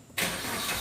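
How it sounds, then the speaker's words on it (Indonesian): Car engine cranks and catches, starting for a brake booster check in a repair workshop, a sudden close roar rising into a steady idle. "Langkahnya kita hidupkan dulu engine ya."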